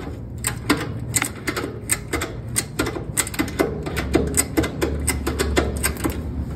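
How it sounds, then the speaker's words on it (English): A ratchet strap is cranked down over a tire plug to press it into a tire, producing a rapid run of sharp, repeated clicks close by, with no talking. "bring that ratchet strap over the top of this so that when you ratchet it down"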